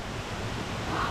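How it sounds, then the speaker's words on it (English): A huge waterfall along the Road to Hana in Maui roars in a dense, steady wash of noise, loud and continuous with no voices. "The mother of all waterfalls."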